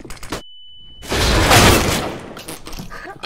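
A flashbang grenade goes off in CS:GO as a loud, close burst, followed by a ringing high tone that cuts out abruptly, then a roaring blast that swells and slowly fades.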